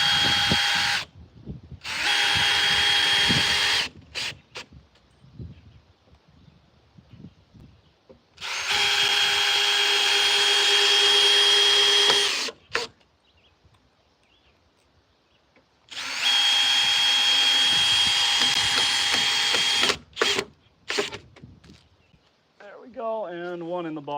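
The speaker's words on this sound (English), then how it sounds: "we'll just put a couple screws in to hold this side on" Three bursts of a power drill drive screws into the wooden side of a semi-portable chicken coop, each whine lasting a few seconds with quiet pauses and brief talk between them.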